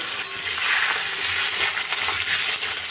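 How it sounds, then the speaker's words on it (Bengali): Diced potato cubes frying in a pan for chhanar dalna, a loud close crackling sizzle with occasional stirring scrapes, continuous throughout with no talking. "আলুগুলো ভেজে নিচ্ছি"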